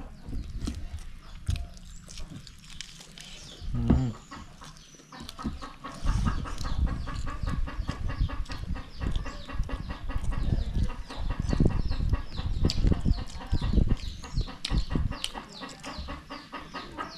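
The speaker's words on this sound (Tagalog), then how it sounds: "Ng mga manok ba?" Chickens and a rooster in a farmyard, with repeated clucks and calls over a steady bustle of activity, getting louder and busier about halfway through the clip.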